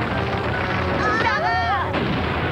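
A loud booming cartoon explosion in a French-dubbed animated series, amid busy sound effects, with a warbling whistle-like tone sweeping over it before the noise settles.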